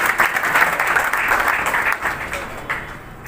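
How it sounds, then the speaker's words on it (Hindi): A crowd at a civic felicitation ceremony in Kurukshetra breaks into loud applause for a family, dense clapping that swells and holds for a few seconds before thinning slightly. "तो उनके लिए भी एक बार जोरदार ताली बजाएंगे परिवार के लिए"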